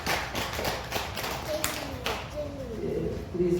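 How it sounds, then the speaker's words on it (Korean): A church congregation claps after a prayer of blessing, a dense run of hand claps close by. Voices and a sustained tone rise over it toward the end. "우리 하나님께 영광의 박수 올리겠습니다."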